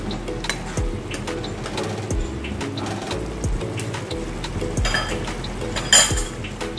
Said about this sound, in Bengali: আমি মাছগুলো দিয়ে দিচ্ছি, নেড়ে নিই।